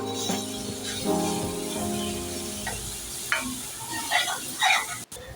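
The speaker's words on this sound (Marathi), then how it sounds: "सोबत घालूया एक चमचा गरम मसाला आणि चिमुडवर हिंग आता हे परतवून घेऊया" Garam masala and a pinch of asafoetida are sautéed in a pan for a monsoon kavala wild-vegetable dish, with a soft continuous sizzle under scattered scraping stir strokes that grow sharper toward the end.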